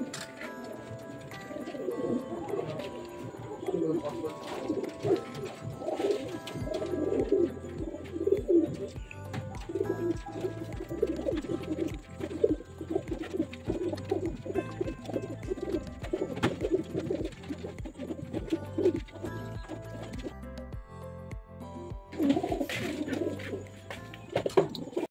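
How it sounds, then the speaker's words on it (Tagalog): Racing pigeons loaded at a loading area for a North race training toss coo steadily and continuously, a dense flock close by with overlapping murmuring calls and occasional wing and cage knocks. "Karga tayo ngayon mga ibon natin."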